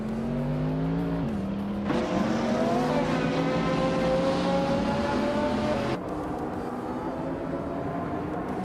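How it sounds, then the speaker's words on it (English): A 2024 Koenigsegg CC8 in a racing video game drones at high revs with a sustained harmonic engine whine, shifting gears with pitch jumps near two and six seconds, loud and continuous with no talking. "Maya is driving a 24 Koenigsegg CC8, a sleek and fast machine"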